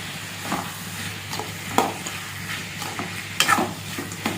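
Egg roast masala sautés in a pan with a soft, continuous sizzle, punctuated by several sharp scrapes and taps of a spoon stirring against the metal, close and without voices.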